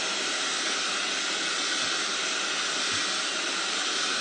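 A hair dryer blows steadily at close range onto a styling brush during heat styling, giving a continuous, even, loud airy hiss with no breaks.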